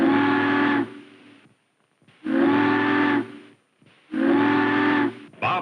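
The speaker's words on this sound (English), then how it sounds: "3 long whistles" A ship's whistle signaling a bridge to open, three long loud blasts with short silent gaps between them, alone.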